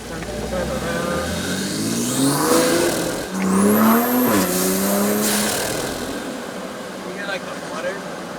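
Toyota Supra with a cold air intake revving, engine tone rising and falling through several pulls, with a high turbo whistle and flutter as the revs drop, close and loud.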